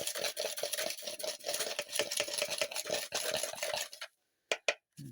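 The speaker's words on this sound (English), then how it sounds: "I'm going to take my popsicle stick. I'm just going to stir these all up inside." A popsicle stick swirls and scrapes rapidly inside a small container in a steady, rhythmic stirring, close and continuous for several seconds before stopping, followed by a few light taps.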